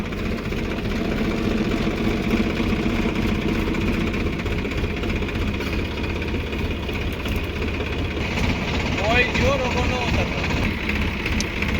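A tractor's diesel engine idles steadily and loudly nearby, a constant low chugging rumble throughout with little change.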